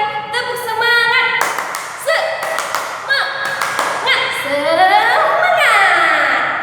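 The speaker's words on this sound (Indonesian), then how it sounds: "Tepuk semangat." A school class claps out a rhythmic clapping chant together, sharp hand claps and thumps in quick patterned bursts, loud and close, mixed with children's voices chanting along.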